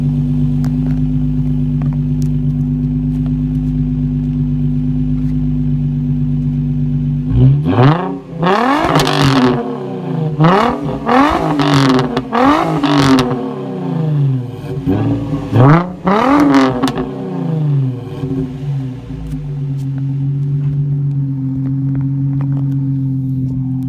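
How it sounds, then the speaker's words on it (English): An Infiniti G35 coupe with a VQ engine idles steadily, then snaps through a series of about five sharp, loud revs with screaming intake sweeps before dropping back to a calm idle, heard close up. "Well, you're gonna hear it rev."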